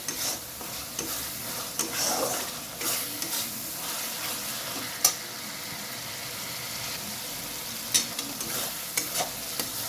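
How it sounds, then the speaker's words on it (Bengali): Poppy seed masala with water being stirred and sautéed in a pan, a soft continuous sizzle with scraping strokes of the spoon and a few sharper clinks against the pan, close by and without talk. "আমি কিন্তু এটা বারবার করে জল দিয়ে দিয়ে দিয়ে দিয়ে কষাচ্ছি"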